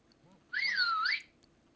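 A phone notification rings out as a short rising-and-falling whistle, clear and bright against a quiet room, lasting under a second.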